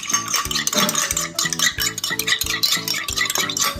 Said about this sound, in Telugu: ఒక ఎగ్గు ఇందులో గిన్నెలో వేసుకుని ఇలా బీట్ చేసుకుంటే